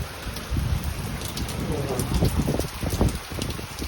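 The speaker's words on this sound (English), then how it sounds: "Started raining as soon as I got here." Steady rain falls outdoors during an air conditioner repair job, a continuous broadband patter with scattered heavier drops and muffled low rumbles throughout.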